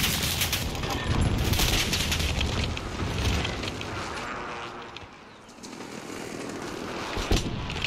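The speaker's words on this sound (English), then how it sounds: "Enemy precision airstrike, take cover." An enemy precision airstrike rains down in a shooter video game, a dense spread of booms and rapid gunfire-like bursts rolling on continuously, fairly loud and close.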